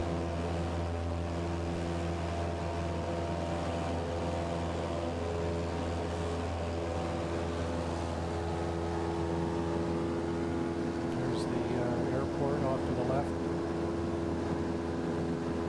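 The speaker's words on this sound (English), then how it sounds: "We'll take off and head up." Small airplane N7918S at KCKN, heard from the cockpit as it takes off from the runway: a steady, loud engine drone holds throughout with no talk.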